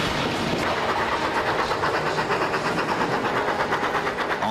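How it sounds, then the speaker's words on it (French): An early 19th-century steam locomotive running along rails, a steady rhythmic chuffing and clattering with a continuous mechanical rumble, fairly loud and alone. "mais cette machine de base deviendra la locomotive du 19e siècle."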